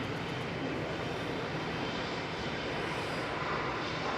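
A Ryanair Boeing 737-800 jet arriving from Milan rumbles in to land at Manchester Airport, its broad, steady engine roar loud and close throughout with no voices over it.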